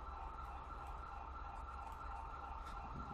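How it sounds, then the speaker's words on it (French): Fire engine siren in the video game GTA 5, a steady, continuous wail held at a constant pitch and rather faint, with no talk. "Dominique, les pompiers sont là."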